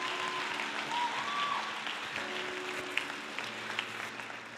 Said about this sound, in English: The way you are clapping.